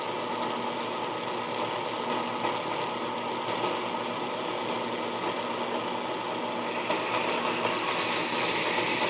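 A power tool enlarges a hole in a metal knife part to clear a fastener, giving a steady high-speed whine and buzz held throughout that brightens and rises slightly toward the end, with no talking.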